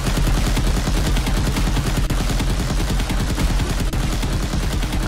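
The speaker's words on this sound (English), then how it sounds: "I don't know where the bullets are coming from" Heavy, dense gunfire in the video game Z.I.O.N., rapid overlapping shots and bursts forming a continuous loud barrage with no talking.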